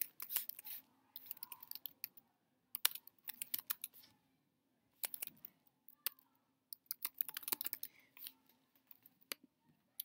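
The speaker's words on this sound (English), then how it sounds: "I'm going to type that here." Typing on a computer keyboard, with scattered bursts of quiet, close keystroke clicks separated by pauses in a hushed room.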